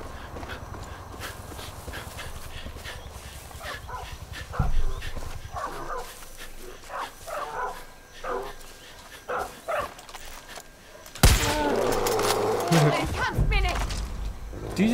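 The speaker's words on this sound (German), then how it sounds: "Mein Hund greift den Bären an." A dog barks repeatedly as it attacks a bear in the video game Far Cry 5, the barks coming in bursts over steady game ambience, followed by a louder scuffle toward the end.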